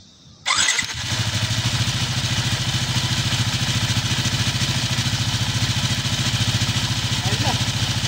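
A Yamaha Sniper 155 motorcycle with a worn camshaft starts with an abrupt burst and then runs at a steady, loud, close idle with a rapid pulsing rhythm, while voices are faintly heard under the engine.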